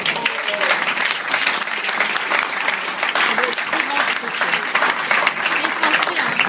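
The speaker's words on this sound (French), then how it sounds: "on l'applaudit bien fort" An audience at a hypnosis show gives dense, loud applause after a subject is woken, a steady crackling roar of many hands with faint voices mixed in, sustained throughout.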